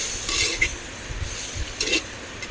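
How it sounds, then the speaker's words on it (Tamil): Mutton gravy masala with chilli and coriander powder is sautéed in a pan over a wood-fired stove, with a few close scraping stirs and light clinks over a soft low sizzle. "இது எல்லாமே போட்டு இப்போ நம்ம வதக்கிக்கலாம்."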